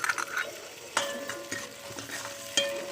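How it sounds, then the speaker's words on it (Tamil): Shallots sizzle in hot oil in a pan along with ginger, garlic and onion, under steady frying hiss broken by sharp spoon-stirring scrapes and clinks near the start, at one second and near the end. "சின்ன வெங்காயம் போட்டுக்கலாம். வணக்கிடுவோம் போட்டு நல்லா."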